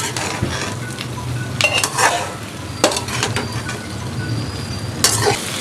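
Sliced okra and green chillies being stirred together in a hot pan, with scraping strokes over a steady, fairly close sizzle and a few louder bursts of spoon-on-pan contact.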